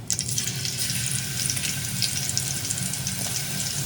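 Cumin seeds and chopped garlic sizzle in hot oil with a loud, continuous hiss and crackle that holds steady throughout, with no talking.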